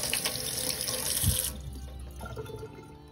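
Hobby paint brushes being rinsed under a running tap: water gushes steadily into a sink for about a second and a half, then cuts off, leaving faint drips and small handling sounds.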